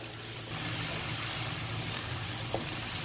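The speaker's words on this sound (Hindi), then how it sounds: "तो इसको सिर्फ 1-2 मिनट के लिए हमने फ्राई करना है, कलर चेंज हो जाए।" Homemade kali tori frying in a pan until its colour changes, a steady, continuous sizzle held close and even, with one small clink near the end.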